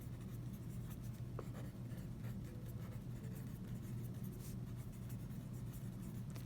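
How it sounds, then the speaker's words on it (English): Pen or pencil scratching quietly on paper as math answers are written by hand, faint, continuous strokes over a low steady background hum. "So I'll write that down."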